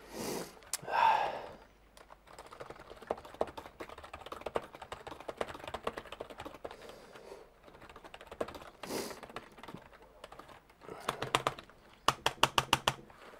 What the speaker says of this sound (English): I would say that I'm typing while I'm talking, for a keyboard that costs